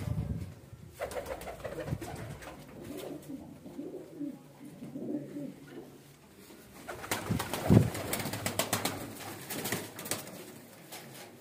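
Pigeons coo in low, rolling phrases nearby, layered with rustling and some sharper clatter in the second half, with a voice briefly present.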